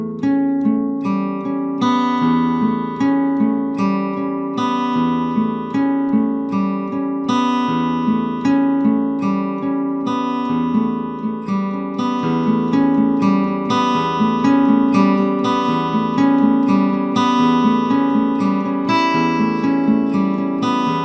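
An altered odd-time picking pattern on guitar cycles through ringing chord voicings with open strings, played steadily and clearly for the whole stretch with no talking.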